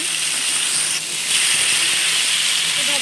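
Fried mola fish being laid one by one onto fried onions in a hot pan give a loud, continuous bright hiss and sizzle that swells as more pieces go in.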